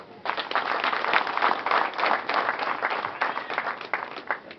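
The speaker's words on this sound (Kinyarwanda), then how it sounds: "ngira ngo mbanze munze amashyi kandi tubashimire" Audience at a community gathering clapping together, a dense, steady round of applause lasting several seconds.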